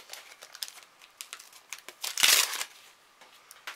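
Panini Gorjuss sticker packets are opened by hand, giving soft crinkling and rustling foil throughout, with a louder tearing crackle midway. No one speaks.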